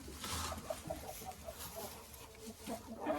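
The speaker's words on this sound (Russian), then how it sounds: "Шелковый, помесь шелкового с мараном сделал гнездо, петух, и созывает туда кур нестись." Quiet low clucking and murmuring calls from a Silkie-Marans cross rooster summoning hens to a nest, soft and spaced out against faint background noise.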